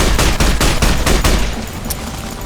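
Rapid loud bursts of gunfire from a weapon in Fallout New Vegas fire in a quick regular rhythm, about six close shots, then trail off into a fading echo and quieter rattles.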